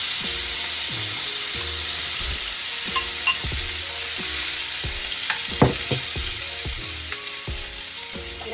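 Land O'Lakes garlic butter sizzles steadily in a frying pan on a stovetop, a continuous loud hiss with a few scraping stirs and light clinks of a utensil against the pan.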